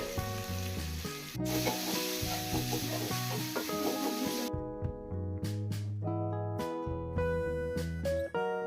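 Chopped onion, capsicum, cabbage and green chili fry on high heat in a pan with carrots and beans for chicken hakka noodles. A steady, close sizzle is strongest early on, with background music running throughout.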